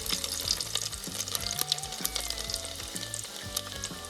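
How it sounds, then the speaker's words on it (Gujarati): Mustard seeds, cumin and garlic sizzle loudly in hot oil, a bright crackling hiss peppered with sharp pops and spatters. A faint background melody runs underneath, and no one speaks. "તેલ આવી જાય પછી આપણે એમાં રાઈ જીરું નાખીશું।"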